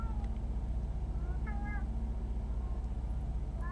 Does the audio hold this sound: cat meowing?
yes